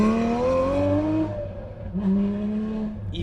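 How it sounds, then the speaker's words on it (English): A loud Porsche engine roars nearby with a sustained high revving tone that dips and rises again, heard on its own with no talking. "That thing has such a crazy engine that it just sounds like that."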